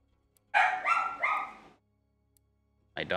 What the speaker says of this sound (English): My dog is upset. I won't let him back in the room.